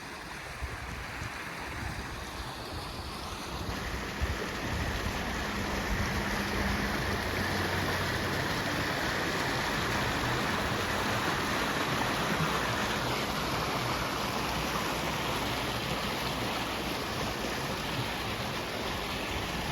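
Flooded Paradise Creek in Pullman rushing high and fast below a bridge after heavy rain, a constant broadband roar of water heard from close above, steady throughout with no talk.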